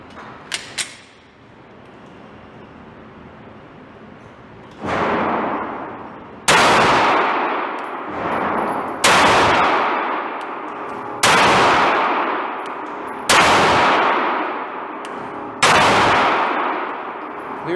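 An FMK C91 Gen 2 pistol fires Remington UMC rounds outdoors: five sharp, loud, close shots spaced a couple of seconds apart, each with a ringing decay, preceded by faint handling clicks and a brief rustle.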